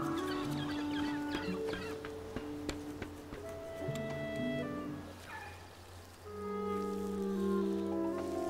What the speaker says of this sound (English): I don't want to make these giant birds angry at me.